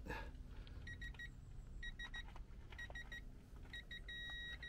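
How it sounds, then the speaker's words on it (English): A digital torque wrench, tightening front shock absorbers on a 2005 Hummer H2, gives short, high-pitched electronic beeps in quick clusters, repeating several times over a low background rumble, with the last beep held longer. "It'll beep when it gets to the right."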